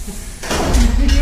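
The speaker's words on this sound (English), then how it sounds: "Doors close." Sliding doors of a panic room in a comedy parody slide shut with a rushing whoosh that swells after a quiet start and holds loud to the end, with a thud and a low hum as they close.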